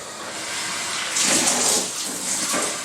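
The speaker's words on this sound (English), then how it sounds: "So I let the actual like hose thing dangle, and then turn on the water." Hot water gushes steadily from a dangling hose into a plastic bin while cleaning a reptile tank, a continuous close splashing rush that swells midway as the stream hits the bottom.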